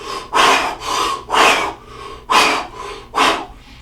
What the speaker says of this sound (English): when we're hyperventilating, that we're focusing on the forcible breathing outwards.